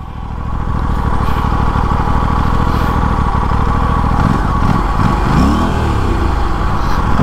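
Aprilia RS457 and KTM Duke 390 Gen 3 motorcycles in a drag race on a track, engines droning loud and steady under hard acceleration, with rising and falling engine tones sweeping through the latter half.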